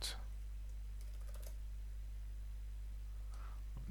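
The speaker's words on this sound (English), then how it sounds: "Just typing links off the top of my head." Someone types on a computer keyboard, a few scattered light key clicks over a constant low electrical hum, faint and close, with no talking.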